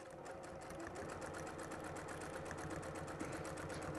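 A sewing machine stitches black thread through black apron fabric in a steady, rapid mechanical chatter, close and continuous without pause.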